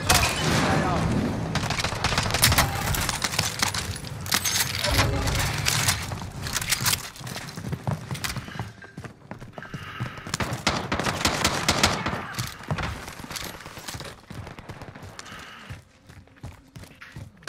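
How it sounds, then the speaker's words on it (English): Small caliber gunfire rattles through a video game firefight, with rapid bursts and scattered single shots repeating loudly over about seventeen seconds, alongside footsteps and occasional booms. "Small caliber rounds here."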